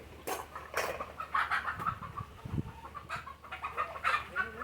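A country chicken clucks repeatedly at close range in an uneven run of short calls, with faint background noise.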